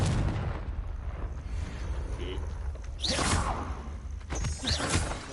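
Confringo spell blasts cast in the Hogwarts Legacy video game: two sharp, whooshing explosive bursts about two seconds apart, heard over steady game background noise.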